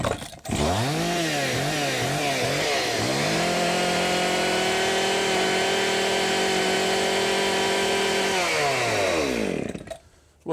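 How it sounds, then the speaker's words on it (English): Chainsaw running loud and close, revving in a few uneven bursts before holding a steady high whine for several seconds, then cutting off. "that's a chainsaw"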